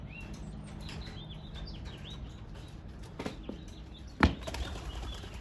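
Racing pigeons released for a first flight flap their wings as they take off, a flurry of fluttering wingbeats with faint chirps, peaking in a sharp close burst of flapping near the end.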